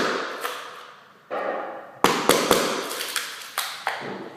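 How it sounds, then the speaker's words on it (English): A chisel tapped in with a hammer pries up a board, giving a series of sharp, close knocks and thuds with creaking crackle between them, in an uneven rhythm and with no talking. "You can hear that noise, that means the top bit of the board is starting to come up."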